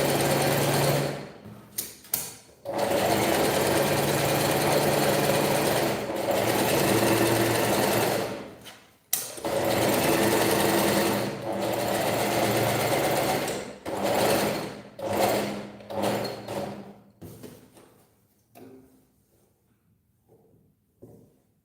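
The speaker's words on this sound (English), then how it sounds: "I'm just going to go ahead and back stitch when it starts." A sewing machine runs in long loud bursts while back stitching a seam with a 1-inch allowance, whirring steadily with brief pauses, then slowing into shorter runs and falling quiet.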